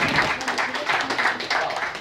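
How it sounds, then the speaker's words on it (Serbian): Steady applause from a sizeable audience at the opening of the Belgrade Art Show, a fashion and musicology event, dense and continuous clapping throughout. "Aplauz."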